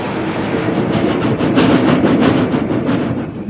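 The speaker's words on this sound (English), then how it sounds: "which the owner assures me is the most luxurious train in the world" Rovos Rail luxury train rolling along the track in South Africa, a steady loud rumble with rhythmic clickety-clack of wheels over rail joints, close and continuous with no talk.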